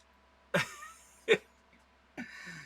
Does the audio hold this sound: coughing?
yes